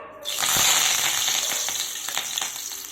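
Curry leaves hit hot oil in a kadai and sizzle loudly, a steady crackling hiss with sharp spits and pops, close and continuous with no voices.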